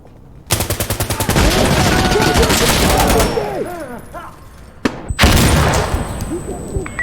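Fire support gunfire in the shooter game Insurgency Sandstorm arrives as a loud, rapid run of repeated shots, then heavy rumbling blasts and a second burst, with voices faintly under the barrage.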